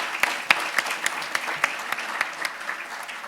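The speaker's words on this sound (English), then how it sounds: "Give a round of applause." A conference audience claps steadily, a moderate roomful of hands with a few sharper individual claps standing out, heard fairly close and without talk over it.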